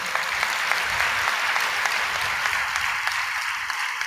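A church congregation claps together in a dense, sustained round of applause, steady and fairly loud with no speech over it.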